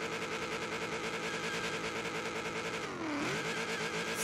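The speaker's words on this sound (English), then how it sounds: "Second gear, just redlining the snot out of this thing" A Ford F100 rat rod in Forza Horizon 3 holds a loud, steady, high-revving engine drone at redline in second gear. The pitch briefly dips and climbs again near the end.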